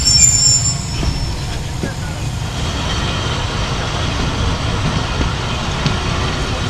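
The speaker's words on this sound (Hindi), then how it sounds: "हमारी ट्रेन अप्रोच कर रही है लाला मूसा जंक्शन पे" Steady low rumble and wheel clatter from inside the Jaffar Express passenger train as it rolls toward Lala Musa Junction in Punjab, continuous and close, with faint squeals and a voice talking over it.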